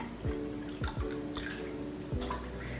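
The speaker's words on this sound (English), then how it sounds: "And then you're just gonna pour the water in." Water pours from a container into a pot of tomato soup, with a low gurgle and several dripping plops and splashes, quiet and close.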